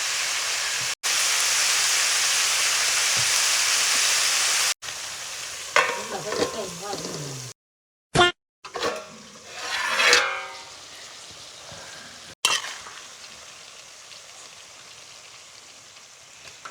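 Mogra greens are stirred in a pan with turmeric and salt, an irregular scraping and rustling of leaves, with bursts of sizzle broken up by brief pauses.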